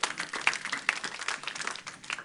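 A church congregation applauds, a brief burst of dense, steady clapping from many hands in a room, moderately loud and without a break.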